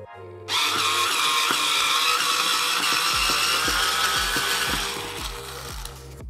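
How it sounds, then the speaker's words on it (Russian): An electric screwdriver unscrews a screw, its motor whirring loud and close for about five seconds, with rhythmic ticking clicks appearing partway through before the whine eases off. "Давайте попробуем теперь выкрутить."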